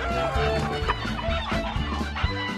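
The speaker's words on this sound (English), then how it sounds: "And the chickens started squawking and flying around." Chickens squawking and clucking in a hen house, a busy cluster of fowl calls with brief sharp cries, moderately close and without speech.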